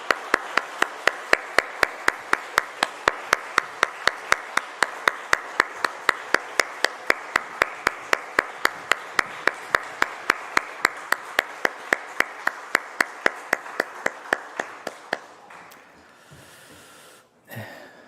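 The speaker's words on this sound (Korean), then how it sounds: "뜨겁게 우리 박수하겠습니다." A church congregation claps together at a family dawn prayer service, giving steady, evenly spaced rhythmic claps for about fifteen seconds before trailing off into quiet.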